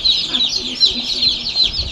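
Colour bird chickens at RS chicken farm, kept alongside desi hens, cluck and chatter nearby in a busy, overlapping chorus, with occasional voices underneath.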